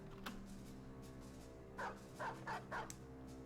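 A dog is killed in the video game Battle Brothers: a few short barks and yips sound in a quick burst of four, loud against a steady low game background.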